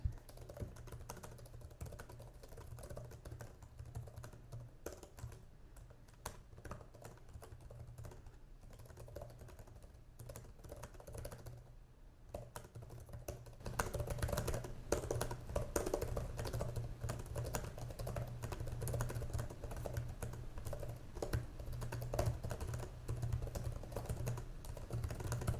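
Fast, snappy typing on an HP OMEN Max gaming laptop keyboard, a dense run of light clicks that grows louder and busier partway through, with no voices.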